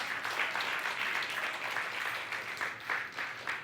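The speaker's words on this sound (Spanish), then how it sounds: "Denle un aplauso al Señor." A church congregation at a Spanish-language worship service applauds steadily, a dense wash of many hands clapping at even loudness throughout, with no voices standing out.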